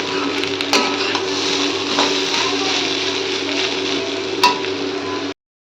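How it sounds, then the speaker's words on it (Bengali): Potatoes fry with onions in a home kitchen pan, a steady broadband sizzle running throughout with a couple of sharp clinks of a utensil against the pan, close and fairly loud, no talking. "আজকে একটু পেঁয়াজ টেঁয়াজ দিয়ে করলাম আলু ভাজাটা।"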